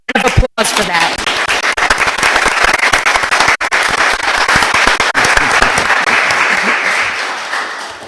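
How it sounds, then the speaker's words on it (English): Loud, sustained applause fills a town board meeting room, with dense clapping from a crowd carrying on steadily for several seconds before tapering off. "So I want to just give everybody a round of applause for that"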